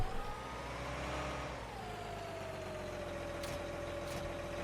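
Tracked tractor from Farming Simulator 19 droning steadily at a low engine pitch, with the whine dropping slightly as it settles, and a couple of faint clicks.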